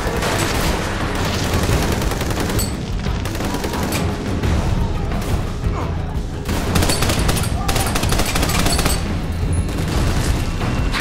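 Dense, continuous gunfire and explosions from a firefight in the video game Army of Two: The Devil's Cartel pound on loudly throughout, with someone talking over the din.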